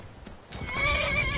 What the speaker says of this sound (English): No, don't attack the horse.